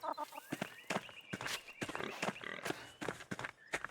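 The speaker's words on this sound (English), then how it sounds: "Hey, look, there's baby chickens." Baby chickens in the video game Pentiment, bursts of soft chirps and peeps mixed with footstep-like clicks, close and fairly quiet.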